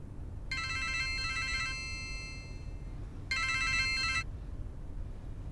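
A telephone rings in two bursts of trilling electronic tones over a steady low background hum, with a pause between the bursts, set in an indoor scene from a Vietnamese romance drama.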